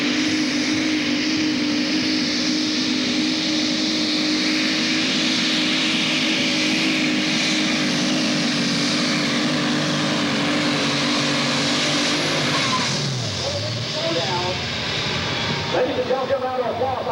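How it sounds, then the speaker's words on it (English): Alcohol-fueled pulling tractor from Macon, Missouri, competing in the 7,500 lb super stock class at the 1997 Nebraska State Fair tractor pull: a loud, sustained engine roar that holds steady, then drops and shifts near the end, with an announcer talking over it. "This is one strong tractor out of Macon,"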